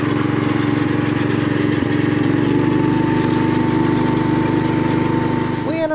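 A 1975 Wheel Horse C-160 lawn tractor engine runs at a steady idle, a loud continuous putter close by with no change in pace.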